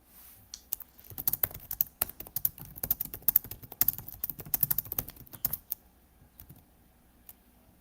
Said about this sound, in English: Hearing some typing.